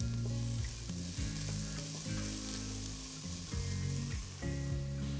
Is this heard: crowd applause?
no